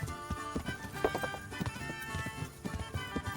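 Horse hooves clip-clop in the medieval video game Kingdom Come: Deliverance, a quick, even trotting rhythm of close, distinct hoofbeats that continues throughout without talk.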